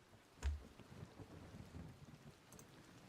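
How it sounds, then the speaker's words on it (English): Steady rain falls throughout, with a low rumble of thunder and a sharp crack near the start, then continuous pattering noise at moderate distance and no talking. "Did the rain go away?"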